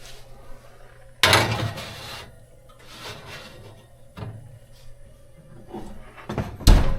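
A kitchen broiler door is opened and shut, giving a loud clunk and rattle, several softer knocks and shuffles, then a final sharp close, all near and without speech.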